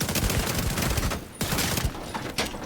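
Rapid rifle bursts in The Division 2, from a high-damage assault rifle build, cracking loud and close in quick clusters with brief gaps between volleys.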